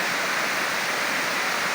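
Libtong Falls, a waterfall at a tourist spot, gives a steady, loud, close rushing roar of falling water with no break and no voices.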